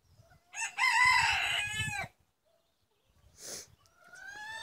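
A rooster crows loudly and close by in a farmyard, one long rising and falling call, followed by a short squawk and the start of another cry.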